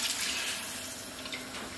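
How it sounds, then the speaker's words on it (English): Water pours steadily into a pot of curry chicken backs on the stove, a continuous broadband splashing rush that holds the same level throughout, close and alone with no voices. "What I'm going to do here now is add that water,"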